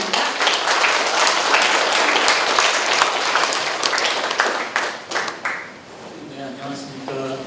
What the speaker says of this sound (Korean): 큰 박수로 환영하시기 바랍니다